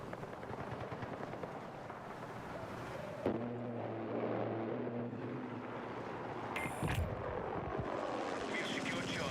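An enemy helicopter thrums in a military video game battle, its rotor noise rising amid gunfire and combat sounds, with radio-style voices speaking over it.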